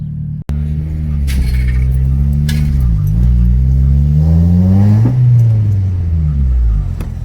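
A Honda Civic EM2 pulls away, its engine revving up and changing pitch as it drives off, loud and close, with a brief sharp knock near the start and steady rumble throughout.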